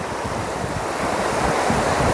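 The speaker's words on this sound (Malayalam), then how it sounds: "കടലിലെ തിരമാല ഇതിങ്ങനെ വരുന്നു" Sea waves surging onto the shore at Pozhiyoor near Poovar, where the backwater meets the sea: a continuous, close roar of surf with steady wind buffeting the microphone.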